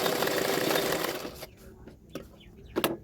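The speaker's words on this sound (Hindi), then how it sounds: "ये कटोरी को इस तरह से किनारे किनारे पे मैंने एक सिलाई डाल दूंगी" A sewing machine runs close along the edges of blouse katori pieces, a dense whirring burst that stops after about a second and a half, followed by a few scattered clicks and knocks.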